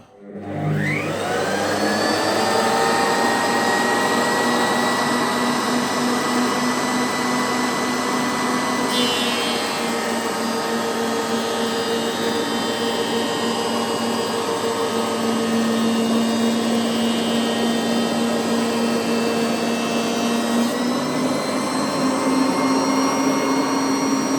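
A GTM helical-head thickness planer switches on and runs steadily, a loud continuous motor whine with a high cutterhead hum and brief shifts in tone as a workpiece passes through; no one speaks.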